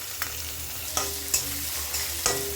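Thinly sliced onions sauté with dried red chillies in a pan, sizzling softly and steadily while a utensil stirs them in several distinct scraping strokes.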